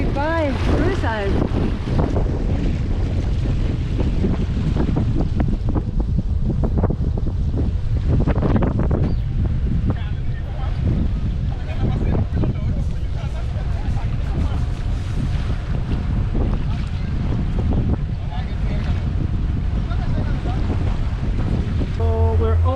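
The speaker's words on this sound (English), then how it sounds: "And it's quite choppy because we're going against wind and tide, and Lynda is already cooking." Wind buffets the microphone as a sailboat pushes against wind and tide through choppy sea off Curaçao, waves slapping against the hull in a loud, continuous roar, with voices breaking through at times.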